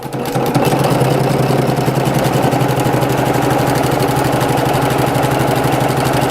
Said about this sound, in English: I can get this machine to go pretty fast with the walking foot